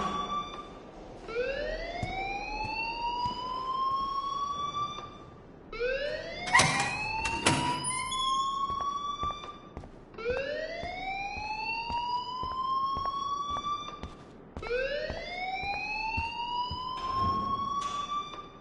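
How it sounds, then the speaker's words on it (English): An alarm rings in the video game Life is Strange: a loud electronic siren whose rising wail repeats in four even cycles, steady and continuous, with a few sharper bursts layered over it and no voices. "please turn off that alarm since that's your job"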